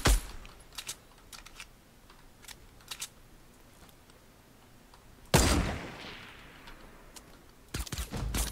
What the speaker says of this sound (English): Oh, I got him with the silent pistol.